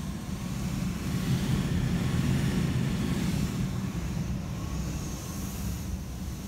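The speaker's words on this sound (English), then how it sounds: "That sound is the blower fighting against pressures as it's trying to work really hard" Steady, loud rushing drone of an attic HVAC blower straining against restrictive ductwork pressure, a constant broadband whoosh with a low rumble that holds evenly throughout, with no talking.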